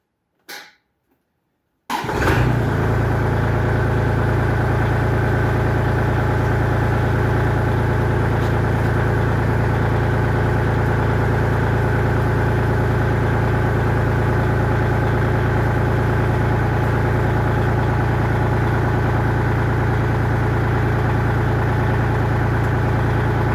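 A Kubota tractor's diesel engine fires up after a brief silence and then idles steadily and loudly for over twenty seconds, close by, with no voices.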